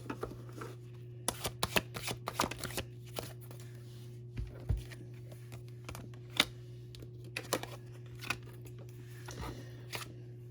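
Tarot cards being shuffled and drawn close up, with clustered papery riffles and soft slaps in irregular bursts, faint and quiet against a low steady hum.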